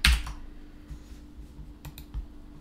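Typing on a computer keyboard while writing a bash script, soft quick clicks of keys in short uneven bursts, close and quiet with no talking.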